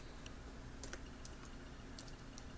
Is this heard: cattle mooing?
no